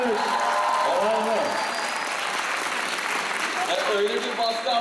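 Steady clapping from a group, with voices and cheers rising over it throughout.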